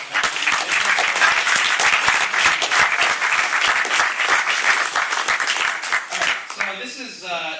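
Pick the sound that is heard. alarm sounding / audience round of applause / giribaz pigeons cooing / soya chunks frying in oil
audience round of applause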